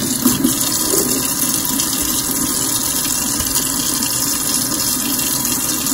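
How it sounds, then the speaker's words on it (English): Tap water runs steadily into a sink while make-up brushes are rinsed, a loud continuous close gush with no talking. "make sure you rinse everything out"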